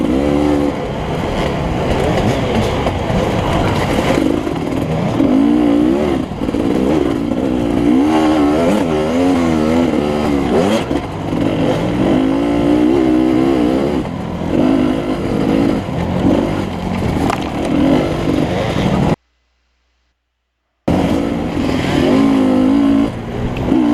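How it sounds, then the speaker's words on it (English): Racing motorcycles close behind on a rural course at La Cygne, Kansas, with engines droning and revving steadily. Pitch rises and falls as the bikes work through gears, and the sound cuts out briefly near the end. "At this point, I can really hear a couple of bikes behind me."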